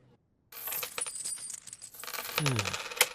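Silver coins clink and jingle together in a short, close burst, metallic rings scattering over about two and a half seconds after a brief quiet start, with a brighter chink near the end.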